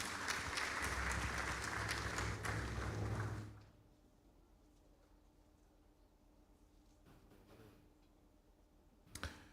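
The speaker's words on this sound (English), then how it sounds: "Another round of applause for him, please." Applause for a speaker at a Nigerian swearing-in ceremony for foreign-trained medical and dental graduates: steady clapping for a few seconds then fading out, leaving a quiet hall with faint clicks and a brief knock near the end.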